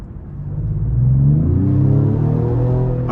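A 2025 Ford Explorer ST with a 3.0-litre twin-turbo V6 pulls away on a road drive, its engine note rising steadily in a loud, close, continuous rumble and hum.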